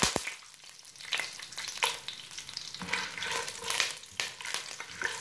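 Popcorn kernels being stirred and roasted in hot oil over very low heat for caramel popcorn, giving a continuous close-up sizzle with repeated scraping stir strokes and no voices.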